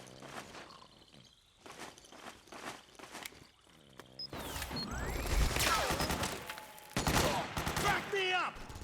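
Gunfire rattles through a Metal Gear Solid 4 battle on PS3, sharp repeated shots and bursts ringing out near and loud over a busy battlefield with footsteps, crashes and scattered shouting voices.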